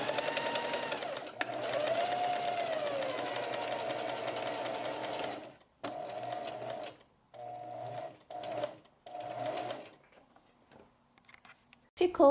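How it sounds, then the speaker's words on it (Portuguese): A sewing machine runs steadily on its own, stitching a buttonhole into fabric with a continuous whirring rhythm that stops and restarts in short bursts toward the end. "a máquina vai fazer a casinha sozinha"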